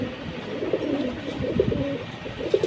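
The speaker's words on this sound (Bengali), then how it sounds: "এই 5 পিস কবুতর, এই দেখেন মাশাআল্লাহ, খুব সুন্দর কবুতর" A small flock of pigeons, four hens and a cock, coo softly and continuously up close, their low rolling calls overlapping with no one speaking.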